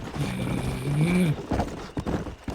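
Hoofbeats of a galloping horse in Red Dead Redemption, rhythmic clip-clop with a whinny-like tonal cry in the middle and a few sharp thuds near the end, fairly close.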